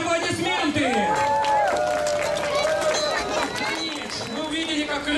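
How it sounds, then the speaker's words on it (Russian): Crowd at a knights' tournament show reenacting the Battle of the Neva in Ust-Izhora, cheering and clapping amid galloping hooves, with loud voices and calls over the noise. "Ваши аплодисменты!"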